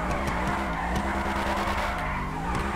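A car drifting in GTA 5 on FiveM, its tires screeching in a continuous, loud skid over a droning engine that rises and falls.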